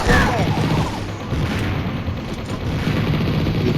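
Bomb explosions in the Mini Militia mobile game: repeated booming blasts and crashing impacts mixed with gunfire-like bursts, loud and dense, with a faint voice in the background.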